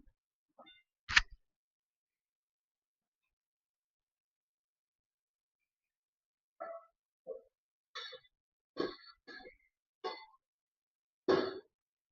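A metal dish is set on top of a pan of whole eggplants cooking in garlic-peanut chutney, making one clear clang followed by several lighter metallic clinks and taps spread out over quiet pauses.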